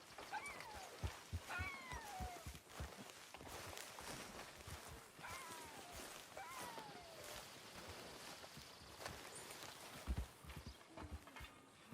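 Horse hooves clip-clop at a walking pace in Red Dead Redemption 2. The hoofbeats are irregular and moderately close, and game ambience and faint animal calls sound around them.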